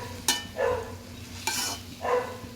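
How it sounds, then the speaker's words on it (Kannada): Black chickpea masala stirred in a pan in two separate strokes, each a sharp scrape followed by a short soft sizzle, close and clear with no talking. "ಒಂದ್ಸರಿ ಚೆನ್ನಾಗಿ ಮಿಕ್ಸ್ ಮಾಡೋಣ."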